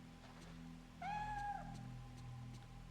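A single clear cat meow from Project Zero 3 on PS2, rising then held for about half a second, heard over a steady low game ambience hum with no talking.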